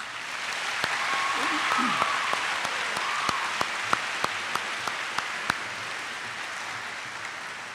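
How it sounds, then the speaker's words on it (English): Steady applause from a school awards audience fills the room, with a few louder individual claps popping out, continuing evenly for several seconds. "Let's give these students a round of applause."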